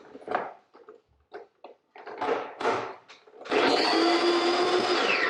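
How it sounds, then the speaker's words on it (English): A whisk or hand mixer working through sweet and sour chutney mixture, starting with short scattered scraping strokes and then settling into a steady loud whirring run near the end. "then give it another whisk up"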